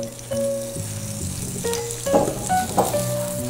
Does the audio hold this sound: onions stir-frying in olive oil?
yes